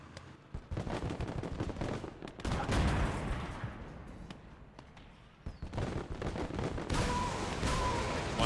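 Tank and small-arms gunfire in the WWII game Gates of Hell, with a T-34 nearby: bursts of sharp shots and heavier booming blasts, loud and close, in a busy battle mix.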